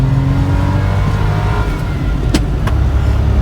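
A street-legal 1993 Suzuki 4x4 Japanese mini truck revs hard while driving on asphalt, its engine a loud, steady, close drone climbing through the RPMs with no pauses and no talk.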